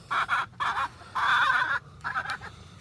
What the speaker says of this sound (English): My roosters have been crowing for about 3 weeks now.